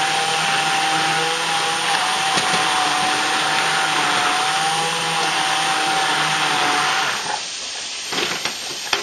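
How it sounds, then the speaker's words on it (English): An immersion blender purees a sauce in a pot still on the heat for baked chicken, giving a loud, steady motor whine with churning liquid that continues throughout and cuts off near the end. "you want to have like an immersion blender like I'm about to use here"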